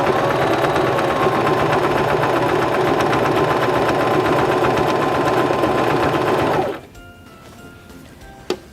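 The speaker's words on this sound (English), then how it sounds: "So now we can press on our foot control and sew the left side of our buttonhole" A Singer Start 1304 sewing machine stitching a buttonhole runs in a steady, fast mechanical whir and clatter for several seconds, then stops, leaving faint clicks and a small knock near the end.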